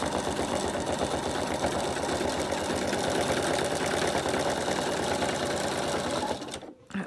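A sewing machine stitches free-machine embroidery on a campervan appliqué, a fast, even mechanical whirring that runs loudly for several seconds before abruptly stopping.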